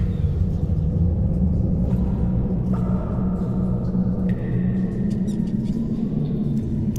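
Hollow, enclosed dungeon ambience for a tabletop fantasy roleplaying game: a steady low rumble fills the space while faint scattered clicks, drips and thin tonal echoes sound at a distance, with no voices.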